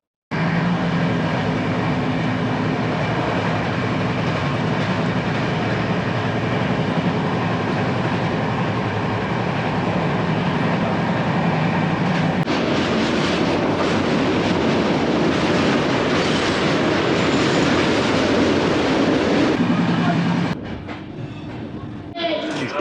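A passenger train on the Maha Kumbh Mela special run from Kakinada to Prayagraj rolls steadily along the rails, a loud continuous rumble with rhythmic clatter that grows rougher midway before easing at the end.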